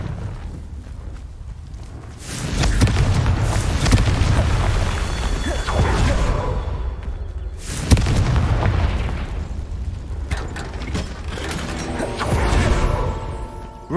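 Confringo fire spell blasts in Hogwarts Legacy, several booming explosions with fiery bursts and crackling debris, loud surges separated by quieter gaps.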